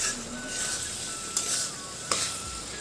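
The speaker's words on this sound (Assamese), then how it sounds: "মাংসখিনি অলপ ভাজি ল'ব লাগিব," Meat fries in a pan before black taro is added, giving a steady sizzle with a couple of sharp stirring clatters of a utensil against the pan.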